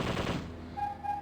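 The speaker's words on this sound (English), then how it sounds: "Machine gun." Machine gun fire from the arcade zombie shooter Zombie Revenge, a brief loud burst of rapid game gunfire that fades into a ringing electronic tone, with no talking.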